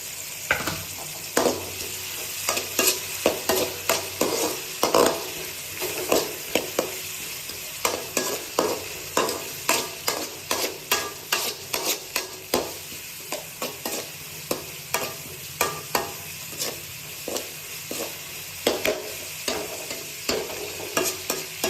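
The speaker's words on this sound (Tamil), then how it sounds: "எண்ணெய் காஞ்ச உடனே வெங்காயம் போட்டுக்கலாம். வெங்காயத்தோட பச்சை மிளகாய் போட்டுக்கலாம்" Chopped onions and green chillies fry in hot oil, giving a constant loud sizzle, with a regular clatter of a utensil stirring and scraping the pan about every second throughout.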